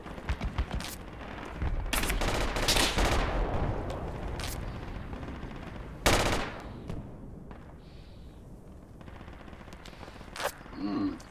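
Rifle gunfire in the Project Reality military shooter game: loud bursts of shots and heavy bangs, dense at first and then thinning to scattered reports. Game ambience and some faint voices run through it.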